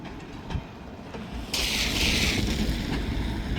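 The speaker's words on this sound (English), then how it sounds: "let's fly over to Iron Mountain and watch this train come through downtown on a Friday night" A freight train rolls through downtown Iron Mountain on a Friday night, a low rumble building before a loud hissing, rushing wash of rail noise takes over and holds steady, close by and without talk.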